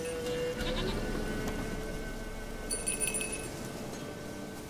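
Goat in The Witcher 3: Wild Hunt bleating in a couple of faint, short calls over steady game ambience, with a light metallic clink partway through.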